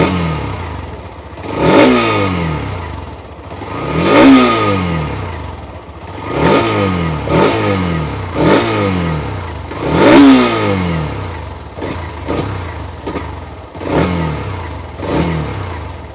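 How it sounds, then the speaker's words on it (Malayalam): A Hero Xtreme 125R motorcycle with a 125cc engine revs through its exhaust in repeated sharp blips, about seven or eight rises and falls spread over the stretch, loud and close with idle between. "ഈ ഒരു 125cc സെഗ്മെൻറ്റ് വെച്ച് നോക്കുമ്പോഴത്തേക്ക് അത്യാവശ്യം നൈസ് സ്പോർട്ടി സൗണ്ട് തരുന്ന ഒരു എക്സോസ്റ്റ് കൂടിയാണിത്."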